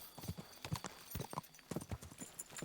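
Horse hooves clip-clop in Kingdom Come Deliverance 2, a quick irregular run of close, crisp hoofbeats over quiet game background.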